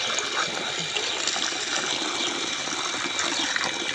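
Water pours steadily from a small mug into a drinking dish for pigeons on a rooftop, a continuous close splashing gush with no voices.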